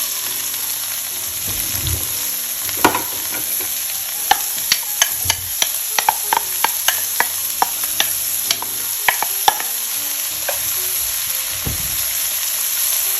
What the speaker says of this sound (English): We're now going to add our onions